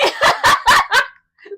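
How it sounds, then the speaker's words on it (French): A dog gives five quick, loud barks in a fast, even rhythm, close by, followed by a brief pause and a faint short sound. "C'est un chien!"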